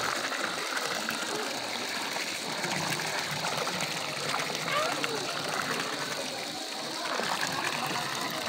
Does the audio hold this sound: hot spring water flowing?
yes